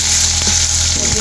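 Cumin, mustard seeds and curry leaves hit hot oil for a lady finger (okra) pulusu, giving a loud, steady close-up sizzle that crackles briefly on its own.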